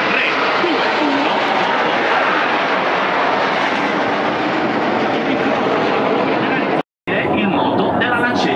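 Frecce Tricolori aerobatic jets flying a display maneuver at a seaside airshow in Castiglione della Pescaia: a loud, continuous broadband engine roar that holds steady before cutting out briefly near the end, with a commentator talking over it.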